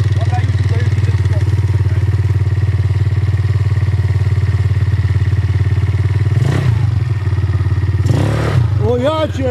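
A powerful quad ATV engine idles loudly nearby in a steady buzzing drone, then is twice blipped with sharp throttle bursts near the end, while people talk over it.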